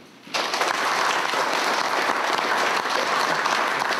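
Audience applause at a Korean civil-society forum on railway issues breaks out after a brief quiet start and carries on steady and full through to the end, with no talk over it.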